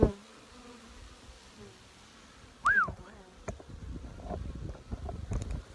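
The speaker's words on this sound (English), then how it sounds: "Dripping bees from those frames" Steady low buzzing of many honey bees, fairly close, as bees are shaken from hive frames in the cold, with a brief louder whine of one passing bee and some handling knocks.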